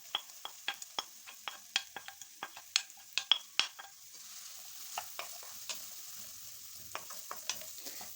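A medium onion, diced into small cubes, sautés in two spoonfuls of oil in a frying pan, a soft steady sizzle broken by a run of sharp spoon clicks and scrapes against the pan.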